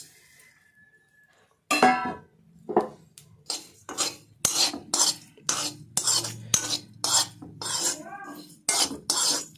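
Lime pickle masala being stirred lightly in a pan, a spoon scraping and clinking against the metal in a steady series of short strokes, close and clear with no talk.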